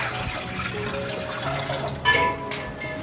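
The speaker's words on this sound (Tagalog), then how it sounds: "Magpakulo muna tayo ng tubig" Water streams into a cooking pot before boiling for a sago and avocado dessert, a steady close splashing pour that swells briefly near the end, with faint music underneath.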